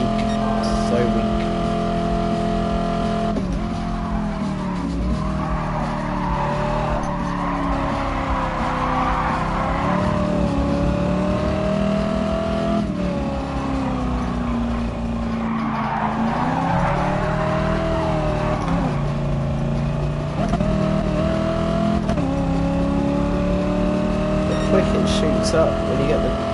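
Race car engine in the video game GT Sport, a loud continuous drone rising and falling in pitch through gear changes, with faint tyre noise underneath, steady throughout the lap.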